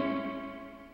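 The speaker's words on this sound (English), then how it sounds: "JL, who's behind the counter right now, lent me a Earthquaker Devices levitation reverb. So I'm playing with this reverb here." An electric guitar chord rings out through an Earthquaker Devices Levitation reverb pedal, sustained and washy with a long, even decay, and a fresh pick attack comes at the end; there are no voices.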